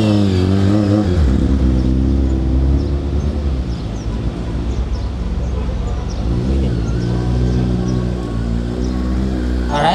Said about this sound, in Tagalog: papakita lang ni Coach Clyde, paano niya ihinto yon kung mataas ang motor